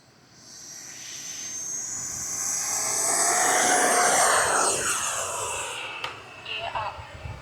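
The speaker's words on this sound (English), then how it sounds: "I'll just take off from this direction." A Freewing Avanti S 80mm electric ducted-fan RC jet takes off, its whine rising to a loud rushing roar that peaks midway and then fades as it climbs away, with brief handling noises at the end.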